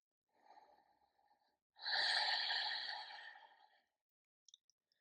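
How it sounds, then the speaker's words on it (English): A slow, deep breath during a yoga flow: a soft, quiet breath first, then a long, louder exhale lasting about two seconds, close and alone, followed by a few small clicks. "And just breathe."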